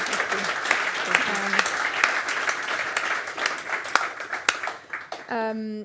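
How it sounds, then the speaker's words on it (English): A round of applause from a conference audience at a cement industry policy event, thanking two speakers; steady clapping runs throughout, with voices speaking over it and a sustained tone near the end. "Can we have a round of applause for the two of them?"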